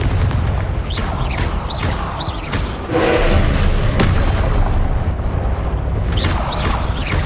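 A Confringo explosion spell goes off in the video game Hogwarts Legacy, a booming blast over dense battle effects, with sharp whooshing spell sounds before and after the main burst.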